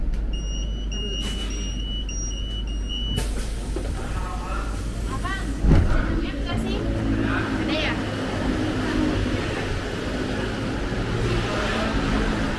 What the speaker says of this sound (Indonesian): ini dia electric bus kita, yaitu dari Senen tujuan Lebak Bulus